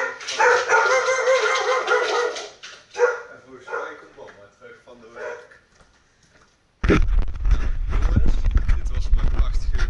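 A dog barks repeatedly nearby in a home early in the morning, the barks mixed with rustling and talk, followed by a loud, steady low rumble after a short silence.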